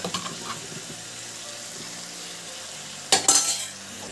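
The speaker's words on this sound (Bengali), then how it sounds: "এখন আমি পেঁয়াজ রসুন পেস্টটাও দিয়ে দিচ্ছি এখানে।" Onion, garlic and chilli paste dropped into a hot pan, a loud burst of sizzling and stirring clatter after a quieter stretch of low kitchen background.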